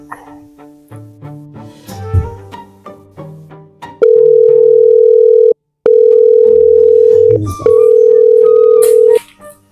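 A telephone dial tone plays while a call is being placed. The steady, loud tone runs for several seconds with one short break, after a stretch of mixed background sound.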